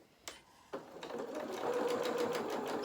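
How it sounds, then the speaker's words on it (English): Sewing machine stitching fabric for a handmade toy rabbit, running as a steady close whirring run with a quick rhythmic needle patter after a couple of brief starting knocks. "So let's sew down to the bottom here."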